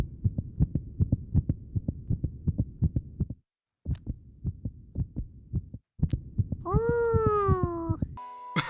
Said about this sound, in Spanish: Así suena mi corazón.